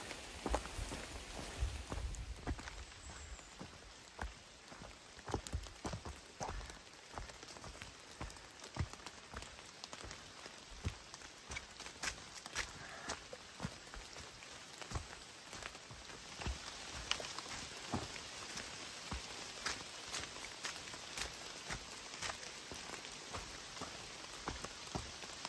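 Steady rain patters on surfaces close by on Saddleback Mountain along the Appalachian Trail, with scattered drips and a few footstep-like crunches, continuous and fairly quiet throughout.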